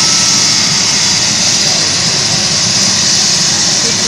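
A helicopter engine runs loud and steady before take-off, a dense continuous roar of turbine whine and rumble with no break.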